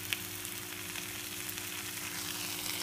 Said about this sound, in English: Sizzle in the pot.